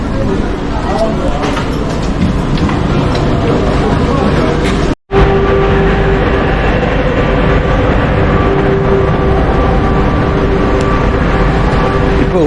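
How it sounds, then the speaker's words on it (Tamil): Loud steady rumble of a Paris Metro train standing at a platform, engine and ventilation droning continuously with a brief cut partway through. "நான் இப்போ ட்ரெயின் நிற்கிது ட்ரெயினுக்குள்ளே போக போகிறோம்"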